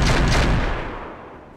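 Heavy weapons fire from giant mechs in the Roguetech/Battletech game, a loud booming blast whose rumble slowly fades, with no talk over it.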